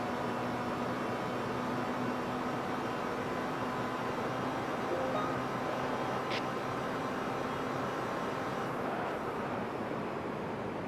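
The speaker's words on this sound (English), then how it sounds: "You can hear the wind" In the Gran Turismo 5 racing game, wind rushes past the camera as a steady, broad, fairly faint hiss, with a muffled car engine humming low beneath it throughout.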